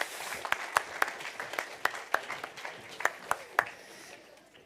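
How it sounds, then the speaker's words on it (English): Light applause from a church congregation, a soft patter with a few sharper single claps standing out, fairly quiet and fading near the end. "Round of applause."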